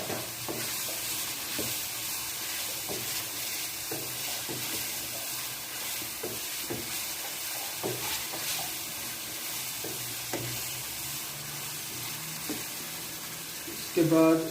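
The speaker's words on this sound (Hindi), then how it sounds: "उसके बाद इसको हिलाना है अच्छी तरह से।" Aloo chicken masala fries in a pan in a Pakistani home kitchen, with a steady close sizzle and irregular scraping stir strokes throughout, ending in a louder clatter.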